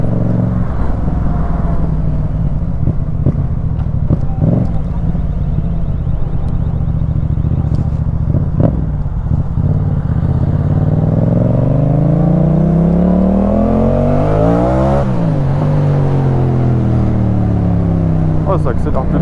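A 2019 Yamaha MT-07 motorcycle accelerating hard through the gears, engine pitch climbing and dropping at each shift, with exhaust crackles and pops over heavy wind noise; a rider speaks over it.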